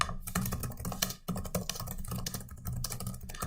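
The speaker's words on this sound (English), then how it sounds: "So I can type out my message." Rapid typing on a computer keyboard while composing a message, a steady close run of light plastic key clicks with a brief pause partway through, no voices.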